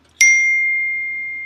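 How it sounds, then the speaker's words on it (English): A single bright chime rings out with a sharp strike, then a clear tone sustains and slowly fades over more than a second in otherwise quiet surroundings. "chimes"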